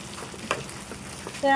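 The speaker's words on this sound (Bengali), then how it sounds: "ভাজা ভাজা তেলটা ছেড়ে দিছে" Quiet, steady sizzling of hilsa fish frying in oil, with a soft crackle and a brief louder burst near the end.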